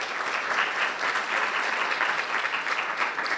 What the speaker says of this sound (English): So let's give a round of applause to our panelists for coming out today.